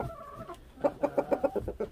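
After a soft murmur, a chicken clucks in a quick run of six or seven rhythmic, close, mid-pitched notes.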